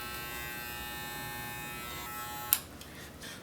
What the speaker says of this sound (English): use your clipper across the comb and remove the hair